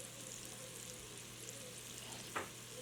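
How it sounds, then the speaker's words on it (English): About three to four cloves of chopped garlic sautéing in a pan for short ribs, giving a steady, even sizzle throughout with one brief stir or clink near the end; no talking. "I'm just sauteing these for probably about 5 minutes"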